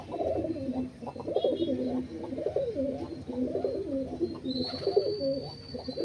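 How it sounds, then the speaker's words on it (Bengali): Pure-line pigeons kept for sale coo close by in a continuous, overlapping series of low, throaty warbles, with a faint high chirp from another bird partway through. "পিওর ৮ লাইনের পায়রা আছে।"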